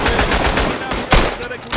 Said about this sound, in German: Kleines Maschinengewehr.